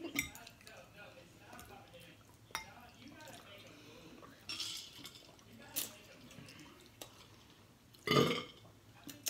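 Loud, croaking burps after eating spicy spaghetti, several scattered bursts of varying strength with the biggest near the end, mixed with faint clinks of dishes and low background chatter.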